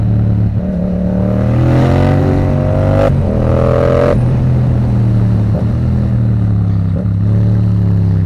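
A motorcycle engine revs hard and accelerates close by, its loud rising and falling tone running continuously with a couple of sharp throttle blips partway through.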